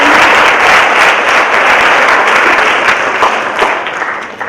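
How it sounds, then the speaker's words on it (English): Steady, dense applause from a large crowd at a high school ceremony, many hands clapping continuously and loudly, tapering slightly toward the end. "Can we give another round of applause"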